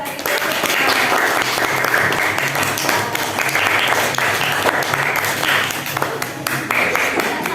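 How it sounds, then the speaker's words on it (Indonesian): Classroom applause from students praising a group's answer, dense continuous clapping from many hands filling the whole stretch, close and loud, with scattered voices mixed in. "Bagus sekali ya, tepuk tangan."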